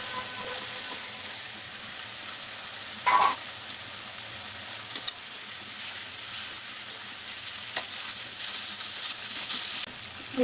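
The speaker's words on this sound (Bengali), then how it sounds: "আলু আর ফুলকপি ভাজাটা দিয়ে দেবো" Potatoes and cauliflower sizzle and crackle steadily in a hot pan, a constant frying hiss broken by a few sharp clacks of a utensil stirring.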